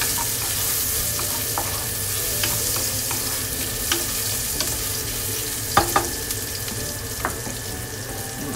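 Ginger sizzling and frying in a pan of hot oil, a steady dense crackling hiss throughout with a few sharper clinks of a utensil against the pan, close-up and loud, with no talking.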